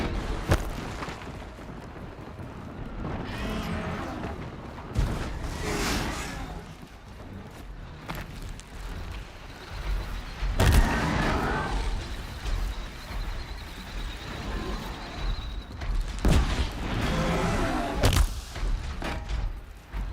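Several booming explosions in the video game Horizon Zero Dawn, sharp loud blasts spaced through a busy stretch of game noise, with a voice talking over parts of it.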